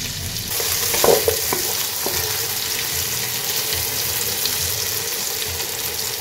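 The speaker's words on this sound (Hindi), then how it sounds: "ये फिश मैं पहले फ्राई करूंगी" Tangra catfish fries in a pan with loud, constant, close sizzling and spattering, plus a few soft clanks early on.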